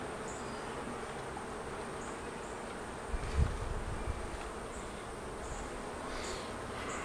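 A steady, dense hum of many honey bees buzzing inside a hive, close and continuous, with a brief louder swell midway.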